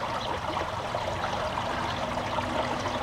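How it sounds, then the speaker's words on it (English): Water flows by the shore in a steady, broadband rush and trickle, continuous and even throughout with no voices. "I'm sitting by the water. It sounds so beautiful and peaceful."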